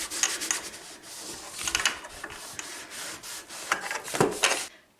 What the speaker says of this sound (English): I'm just dipping my rag in, and you don't need very much, and we're just gonna start rubbing